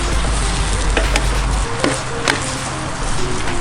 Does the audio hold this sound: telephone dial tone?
no